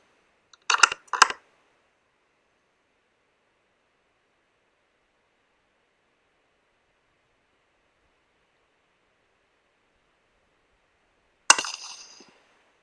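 A 17HMR rifle is fired at a rabbit, giving one sharp, loud crack with a short decaying tail late in the clip, after two brief clicks near the start and a long silence.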